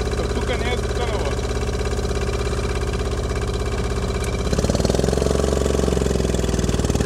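A Hummel tractor engine chugs and revs while driving offroad, a steady close rumble that swells louder partway through, with voices talking over it.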